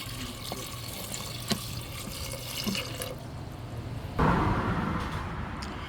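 Beans are rinsed under a running tap, a steady close stream of water that swells into a louder, fuller gush partway through, with small splashes and no talking.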